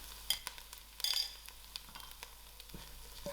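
Cumin seeds frying in a pan with green chilies for a spicy loki dhal, a soft close crackle with scattered pops and a few utensil knocks against the pan.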